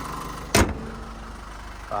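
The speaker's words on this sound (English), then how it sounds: "just that diesel motor ticking over nicely" A 2020 Holden Colorado LS diesel engine idling steadily, a close, constant low rumble with a sharp brief knock or thud partway through and a faint rise at the end.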